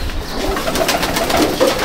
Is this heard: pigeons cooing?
yes